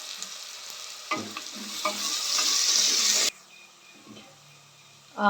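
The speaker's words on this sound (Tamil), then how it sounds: "வெங்காயம் நல்லா வதங்கட்டும் அதை நல்லா வதக்கி விட்டுடலாம்" Large onions sautéing in a pan for a traditional mutton curry, a steady close sizzle broken by several scraping stirs, with no talk.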